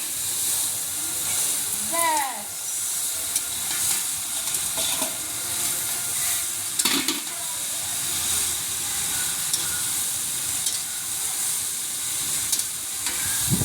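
Cabbage fries in a pan at a family rooftop picnic, a steady loud sizzling hiss with occasional scrapes of a spatula, while voices and other picnic noise sound faintly in the background.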